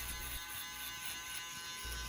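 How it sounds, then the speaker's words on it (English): A Babyliss FX3 aluminum foil shaver runs against hair on the side of a man's head during a low fade haircut, giving a steady close-up electric buzz with slight shifts in pitch as it moves. "Then I come in with the Babyliss Fx3 shaver and get it nice and baby soft on the side"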